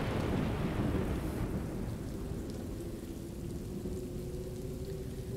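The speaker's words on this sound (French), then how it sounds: "Bon, il pleut." Rain and rolling thunder in the Road 96 video game, heading up a mountain, a dense steady downpour with a low thunder rumble that fades into a continuing hiss of rain.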